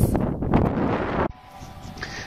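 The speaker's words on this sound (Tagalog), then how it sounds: "Tapos ang lakas ng hangin." Strong wind at Bakasyunan Resort in Tanay buffets the microphone in loud, gusty rushes for over a second, then drops abruptly to a quieter outdoor hum.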